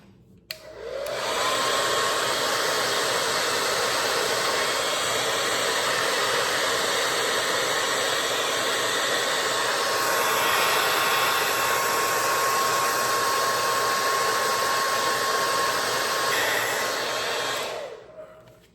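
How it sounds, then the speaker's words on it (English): A blow dryer runs close and steady on a wig being installed, a loud constant whoosh with a thin whine, switching on at the start and off near the end. "this is going to call for the blow dryer."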